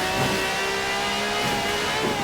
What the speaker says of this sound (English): The Stig's warming up the tyres. A good old-fashioned rolling burnout.